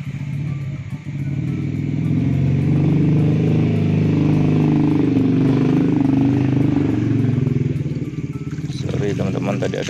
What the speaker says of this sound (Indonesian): tadi ada suara motor ya